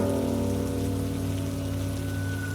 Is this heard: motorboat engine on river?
no